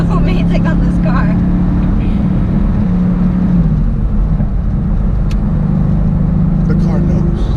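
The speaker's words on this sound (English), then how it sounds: "Wow, the exhaust note is just so amazing on this car." A 2018 Mercedes-AMG GT C Roadster's exhaust drones loud and steady while driving, a deep continuous engine note with brief voices inside the car.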